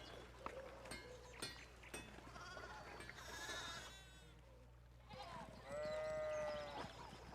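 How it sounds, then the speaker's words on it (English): Sheep bleat repeatedly in the video game Pentiment, several clear calls at moderate loudness with faint hoof-like clicks, and no talk. "More sheep blocking our path."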